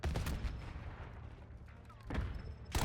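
A Saug submachine gun firing in Black Ops 6, a loud rapid burst at the start, a quieter stretch of distant shots, then fresh bursts near the end.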